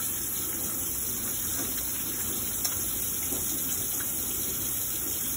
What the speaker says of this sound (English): Making sure you wash the palms